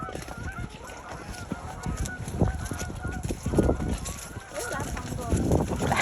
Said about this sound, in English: Sometimes when we come up this hill, there's geese and birds, and yes, there they are.